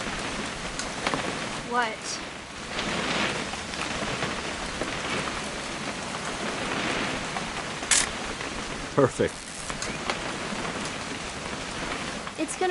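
Steady rain falling, a continuous close wash of drops striking surfaces, with a few people talking briefly over it.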